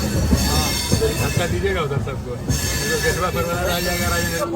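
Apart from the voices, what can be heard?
Patna-Katihar Intercity Express train at Patna Sahib station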